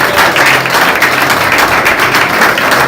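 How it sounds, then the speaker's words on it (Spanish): Church congregation clapping and applauding together at a worship service, a dense, loud and steady wave of hands that holds through the whole stretch with no speech over it. "Dale un aplauso al Señor"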